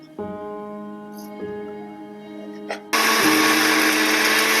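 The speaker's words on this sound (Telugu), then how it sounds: "ఇంట్లో మెత్తగా మిక్స్ పట్టుకోవాలి" An electric mixer grinder whirs as it grinds sesame seeds with about fifteen peeled raw garlic cloves into a fine spice powder, starting with a steady motor hum and jumping to a loud, harsh full-speed grinding roar near the end.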